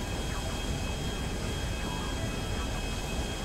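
Airplane engine droning in flight in the video game GTA 5, a steady, continuous roar with a thin high whine held throughout, without breaks.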